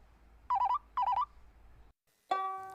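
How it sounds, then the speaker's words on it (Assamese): A mobile phone ringtone plays two short warbling chirps, then a brief silence, followed by a brighter sustained ringing tone, clear and close. "কৃষ্ণ হেই কেদা ফোনটো ধৰক, কোনোবা বিপদতো পৰিব পাৰে।"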